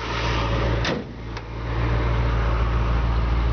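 A 1967 Ford Mustang convertible engine idling with a steady low drone and hum. A brief clunk and dip in the sound come early before the engine note settles back to a constant idle.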